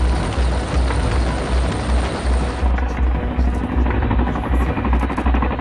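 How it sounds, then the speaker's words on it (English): Boeing CH-47 Chinook twin-rotor helicopter flying during an extraction operation with a Navy team and boat, its loud, steady rotor thump and turbine roar continuous throughout and slightly changing in tone midway. "the helicopter can be flying away to safety at nearly 190 miles per hour."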